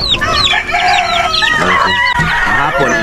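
Chickens cluck and a rooster crows on a small farm, several birds calling loudly and close in overlapping bursts, with faint voices in the background.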